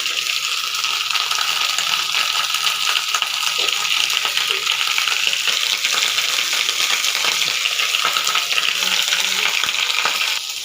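Ajwain leaves fry with turmeric in a hot pan, giving a dense, continuous hissing sizzle that stays loud and even throughout, with faint stirring underneath.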